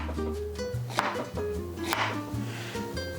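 A knife slices through a pineapple with a few soft, brief cutting thumps, set against steady background music.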